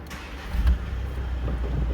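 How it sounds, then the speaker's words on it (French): A Volkswagen Caddy 2.0 TDI diesel with its engine warning light on, starting up: a low cranking surge that settles into a steady idle rumble, close by. "Si on démarre le véhicule"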